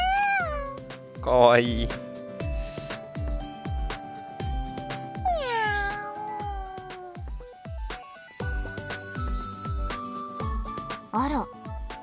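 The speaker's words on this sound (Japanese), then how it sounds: "あら、捨て猫？" Cat meowing in a Japanese visual novel game, a stray cat's mews rising and falling in two clear calls amid steady background music, with a voice speaking briefly.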